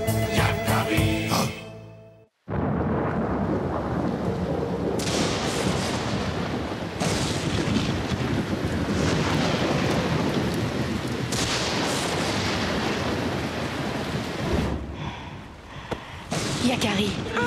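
A cartoon thunderstorm rumbles with heavy thunder and steady pouring rain, loud and continuous after a brief musical opening and sudden break, with booming claps rolling over the rain throughout.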